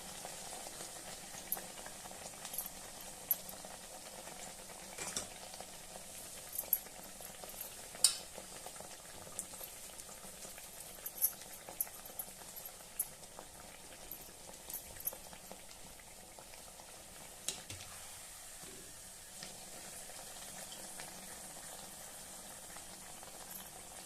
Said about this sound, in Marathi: अशा पद्धतीने आपण घाऱ्या तळून घ्यायचे